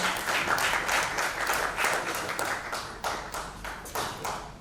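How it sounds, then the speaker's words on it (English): Audience applause for a panel at a Dhaka tech conference, a crowd clapping in fairly distinct, rhythmic bursts that fade slightly over a few seconds. "So maybe a round of applause for that."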